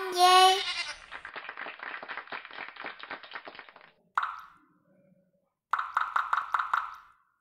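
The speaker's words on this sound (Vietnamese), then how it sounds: "Giỏi quá con dê." One loud goat bleat opens a children's animal-sound lesson. It is followed by a long run of rapid, soft tapping pulses, then two bursts of sharp clapping-like knocks, with no voices.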